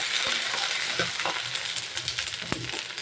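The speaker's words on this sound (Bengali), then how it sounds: "এবার একে ভালো করে নিচ্ছি, কষিয়ে নিচ্ছি মশলাটা।" Spice paste sautéed in a pan gives a steady sizzle and hiss while a spoon scrapes and stirs, with a few sharp metallic clicks against the pan, close and without talk.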